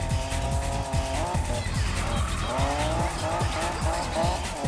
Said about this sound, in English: So we're trying to drift with grip tires.